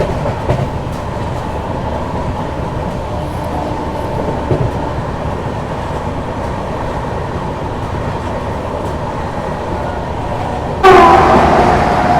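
A Delhi–Mumbai AC special passenger train running through Gujarat, heard as a steady rumbling, rattling ride with rail noise throughout and a louder, brighter burst swelling in near the end.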